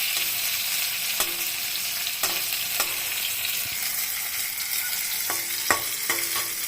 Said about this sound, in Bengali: তাতে এখন নাড়াচাড়া করছি